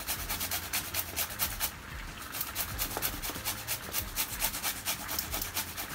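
Fresh ginger rubbed against a grater while cooking a lamb neck stew, giving a steady run of close, scratchy rasping strokes in quick repeating rhythm with no talk.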